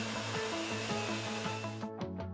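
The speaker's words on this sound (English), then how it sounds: "A vacuum machine is used to remove all the air from the investment." A vacuum machine pulls air out of plaster-like jewelry casting investment, giving off a steady droning hum with a pulsing mechanical rhythm before it cuts off near the end, followed by a couple of short hissing bursts.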